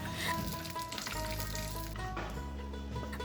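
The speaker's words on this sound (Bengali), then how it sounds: "কড়াইতে দু চামচ ঘি দিয়ে বাদাম আর কিশমিশ একটু ভেজে নিচ্ছি" Steady sizzling of nuts and raisins frying in ghee, close and continuous, with a faint scrape or stir partway through and no voices.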